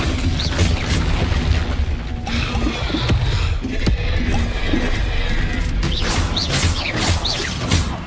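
Confringo fire-spell blasts from Hogwarts Legacy combat, a series of sharp booms and crashing impacts spread through the clip over a dense, busy background of magical effects.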